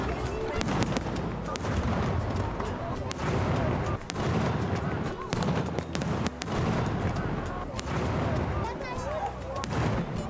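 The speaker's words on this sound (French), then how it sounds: "Quand les feux de bois commencent à fléchir, les feux d'artifice prennent le relais." Fireworks explode over Menorca in rapid, overlapping bursts, loud and continuous, with crackling booms and sharp pops layered over a dense rumble and faint crowd noise.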